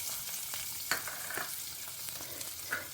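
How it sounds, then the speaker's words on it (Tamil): Sliced ginger frying in hot oil in a home kitchen pan while cooking a Tamil vallarai thuviyal, a steady close sizzle with a few stirring scrapes and brief spatters, no voices. "இஞ்சி வந்து எப்பயுமே அந்த பொரிய விட்டல் அப்படின்னாக்கா அந்த ஜூஸ் வந்து எண்ணெயில் இறங்கிட்டு"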